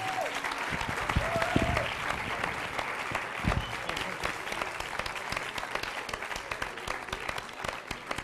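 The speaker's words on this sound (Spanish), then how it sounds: "Un aplauso, por favor." An audience at a union event applauds, sustained clapping from a crowd that holds steady throughout with a few voices mixed in underneath.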